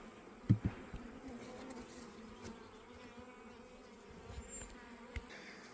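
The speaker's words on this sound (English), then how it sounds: "So, see, there's bees all the way across." Honey bees buzz around open hives in a soft, continuous hum, with a few brief bumps and knocks near the start.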